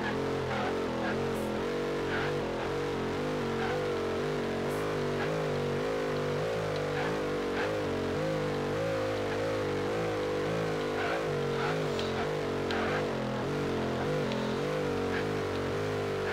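A Nissan GT-R engine revs and roars continuously while driving in Forza Horizon 2, its pitch wavering with throttle and gear changes over a steady loud rumble, with faint clicks and effects on top.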